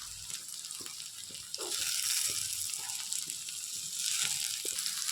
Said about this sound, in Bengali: এখন আমি দিয়ে দেবো টমেটো কুচিগুলো।